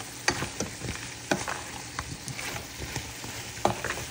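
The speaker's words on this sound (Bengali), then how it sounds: "এখন এখানে ফুলকপিটা দিয়ে একটু কষিয়ে নিব" Cauliflower and bori sizzling in a pan with cooked spice paste, a steady fry hiss broken by scraping stirs and soft pops, close and alone.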